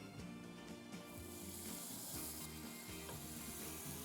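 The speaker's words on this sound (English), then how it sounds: "So let's get this bacon added." Bacon strips sizzle on a grill heated to 400 degrees, a steady close hiss and crackle with no talking over it.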